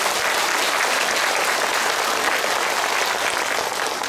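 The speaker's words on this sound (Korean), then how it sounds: "박수 한번 주세요." Dense, steady applause from a large audience at a Catholic Holy Spirit gathering, sustained and even at full volume with no break and no voices rising above it.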